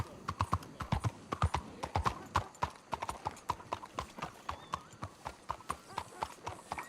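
A horse in Red Dead Redemption II clip-clops along at a steady walking rhythm, hooves close and distinct, with a faint whinny and brief talk mixed in.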